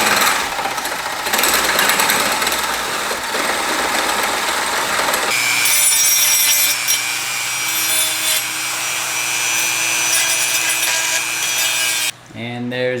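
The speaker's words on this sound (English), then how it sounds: "Now that our strut bars are drilled out" A step drill bit bores through a Miata NC strut bar, making a loud, continuous close grinding whine that shifts to a higher, steadier metallic pitch partway through before stopping abruptly near the end.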